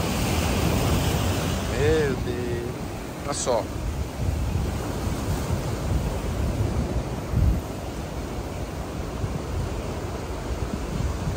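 Strong, forceful ocean waves crash and surge at high tide on Boa Viagem beach in Recife, forming a continuous rough roar with wind buffeting the microphone, while someone talks over it.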